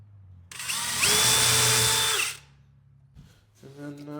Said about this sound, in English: Now I just pre-drill holes,